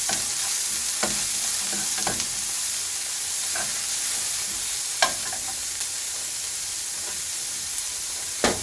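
Chopped garlic and onion frying in hot oil for vegetable fried rice: a loud, constant crackling sizzle close by, with occasional sharp clicks of a spatula against the pan.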